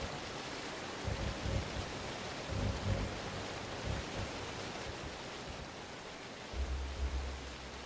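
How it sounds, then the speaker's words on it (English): Waterfall and rapids ambience from the video game Skyrim, a steady wash of rushing water with low, surging swells, heard alone. "Waterfalls and rapids."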